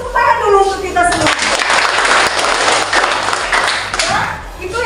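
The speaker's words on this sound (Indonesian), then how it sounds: "tepuk tangan dulu untuk kita semua" A classroom of students claps together for several seconds during a lesson, a dense, loud burst of overlapping hand claps that swells and then tapers off.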